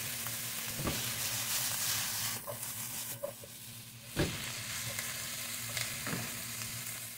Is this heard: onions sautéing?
yes